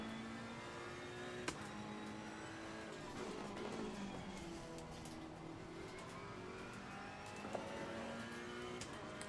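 Race car in Assetto Corsa Competizione lapping the Barcelona circuit, a steady engine drone with rising and falling revs through gear changes and occasional sharp clicks, continuous and fairly faint.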